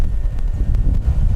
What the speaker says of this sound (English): this is hard to do in the wind like this